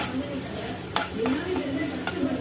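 Four dried red chillies, two Kashmiri and two ordinary, sauté in a pan, a soft continuous sizzle with a few sharp scrapes and taps of a spoon against the metal.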